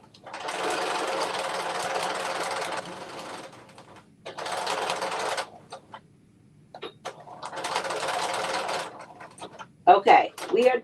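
Sewing machine stitching an infinity wrap dress in three long steady bursts of fast motor-driven needle chatter separated by pauses, close and loud, with brief handling clicks and a short spoken voice near the end.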